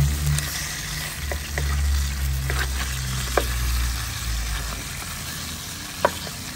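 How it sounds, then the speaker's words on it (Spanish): Chicken sears in a hot pan after being flipped, hissing with a steady sizzle broken by a few stirring scrapes and two sharp clicks. "lo vamos a voltear del otro lado para que también se selle"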